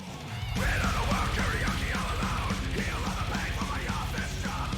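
Retsuko from Aggretsuko letting out a sustained banshee-style metal scream over loud, driving heavy metal instrumentation, raw and continuous for several seconds.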